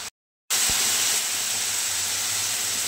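Egg curry gravy bubbling in a pan, a steady broadband hiss and simmer running continuously at close range after a brief silent gap at the start, with no talking.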